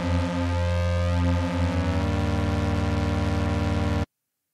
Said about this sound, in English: So what you're hearing right now is two notes that are 2 half steps apart.